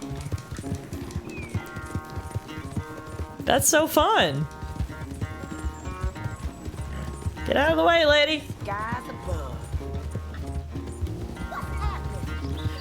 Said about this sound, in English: I've never gotten into a random horse race before.